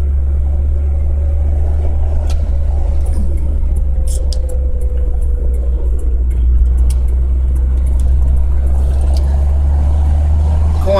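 A Fiat 2000 Spyder drives along with its engine running, a loud, steady low drone at moderate throttle with road and wind noise and faint creaks inside the car.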